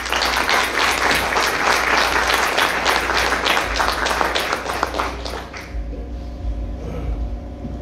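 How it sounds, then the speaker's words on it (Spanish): Audience at a Hispanic-American naturopathy forum applauding to welcome a speaker, a dense burst of clapping that fades out after about five seconds into quiet room tone. "Quiero que recibamos, por favor, con un fuerte aplauso a Jocelyn Toledo Vega"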